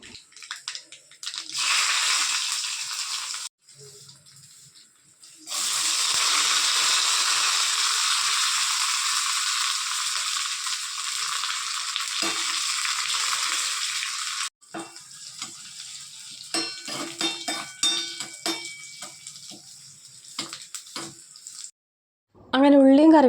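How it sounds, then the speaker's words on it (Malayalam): Mustard and fenugreek seeds splutter in hot coconut oil, giving close, loud bursts of crackling sizzle separated by quieter pauses, with a short voice near the end. "വെളിച്ചെണ്ണ ഒഴിച്ച് നമുക്ക് കടുക് പൊട്ടിക്കാം കേട്ടോ"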